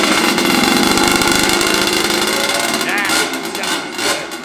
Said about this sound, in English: Want to fire it up, ride her out so they can hear it.